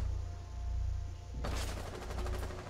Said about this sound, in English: That was blind fire and got me.